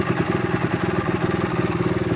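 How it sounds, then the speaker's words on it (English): A 1975 Yamaha DT250 motorcycle engine idles close by with a steady, rapid two-stroke putter that stays even throughout the short stretch, with no voices over it. "It's idling smooth."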